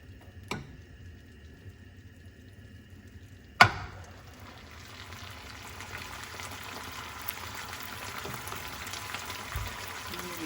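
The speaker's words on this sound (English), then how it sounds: "So you just scoop the bolognese sauce, add it into the frying pan." After two sharp clicks, a steady low sizzle of bolognese sauce frying in a frying pan builds and continues, close and moderately loud.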